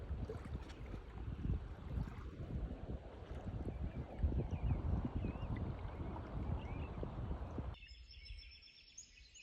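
Steady wind rushing across the microphone while paddling a boat on a lake in northern Minnesota, with low rumbling buffets throughout that drop away abruptly near the end, leaving a quieter, thinner hiss.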